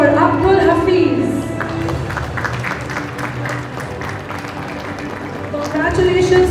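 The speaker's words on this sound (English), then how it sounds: "a big round of applause for Abdul Hafiz" Audience clapping at a school investiture and felicitation ceremony, a steady dense round of applause from a seated crowd that carries on throughout, dipping slightly in the middle and swelling again at the end.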